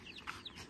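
Free-range farm chickens cluck in a few short, faint calls, quiet and somewhat distant, with no voices.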